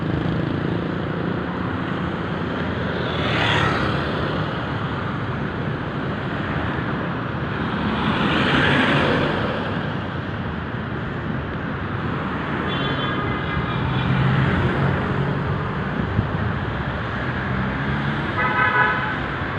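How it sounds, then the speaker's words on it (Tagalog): Busy street traffic near the abandoned old Luneta Hotel, a steady roar of passing vehicles with a few car horn toots scattered through it, fairly loud and continuous. "Dumadami ng mga sasakyan."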